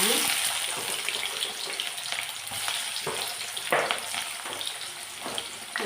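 Onions, mustard seeds and fenugreek sizzle steadily in hot oil for bitter gourd kulambu, a dense broadband frying hiss with occasional louder crackles and pops, close and continuous throughout.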